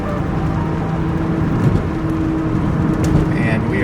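A 1998 BMW Z3 M Coupe driving and slowing for a U-turn, steady engine and road noise heard from inside the car, with a voice talking over it.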